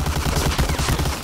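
Rapid automatic gunfire in the multiplayer shooter Medal of Honor: Allied Assault on the Algiers map, a quick, evenly spaced burst of about a dozen loud, close shots with no pause.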